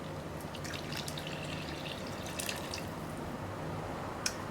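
Water and olive oil are poured into a well in a dry flour mixture for pizza dough. A soft, steady trickle runs under a faint hiss with a few light drips, and no one speaks.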